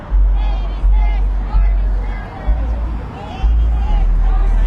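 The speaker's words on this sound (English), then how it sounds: "there's a pretty good crowd out here today, lining Fry Boulevard here near Veterans Memorial Park's main entrance on Fry Boulevard" A protest crowd lines Fry Boulevard near the main entrance of Veterans Memorial Park, a steady outdoor babble of many distant voices under heavy low wind rumble, with no single voice standing out.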